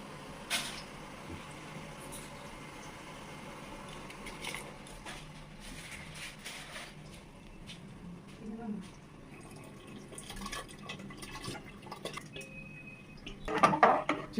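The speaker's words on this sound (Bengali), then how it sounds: "চাল দিয়ে দিয়েছি হাঁড়ির মধ্যে। তো হাঁড়ির মধ্যে ঢাকা দিয়ে দিলাম।" Rice going into a cooking pot for biryani, with faint scraping and clinks of metal cookware, a lid set down and a louder clatter near the end, quiet overall with occasional talk.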